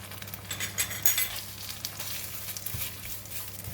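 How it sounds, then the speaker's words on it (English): Thai red curry paste and kaffir lime leaves fry in hot oil for stir-fried prawns, a quiet, close crackling sizzle with light stirring scrapes and soft clinks. "We're going to fry the curry paste until nice fragrant."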